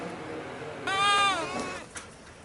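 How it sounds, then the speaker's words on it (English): One drawn-out bleat from goats on a small farm, clear and fairly close over a quiet outdoor background, followed by a brief softer sound. "And there's the goats."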